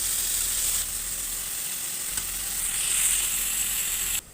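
Carrots, potatoes and peas frying in a pan, a continuous bright sizzle holding steady throughout with faint stirring underneath, close and even, ending abruptly.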